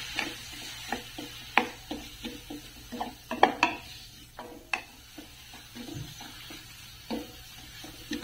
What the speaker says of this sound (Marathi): अगदी मिनिटभर फक्त परतून घ्यायचं आहे, जास्त काही शिजायला वेळ लागत नाही भोपळ्याला